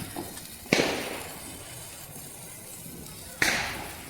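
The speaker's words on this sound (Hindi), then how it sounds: "हम लोग फुलझड़ी लेके ऊपर आ गए हैं छत पे।" Diwali firecrackers burst outdoors from a rooftop at night, two sharp cracks a few seconds apart with hissing tails over a low background hiss, no talking heard.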